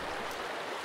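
Steady broadband rush of river water flowing in the Sons of the Forest video game, a continuous close wash with no distinct pulses and no speech.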